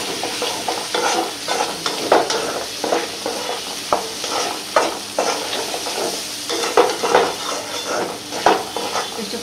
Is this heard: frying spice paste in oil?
yes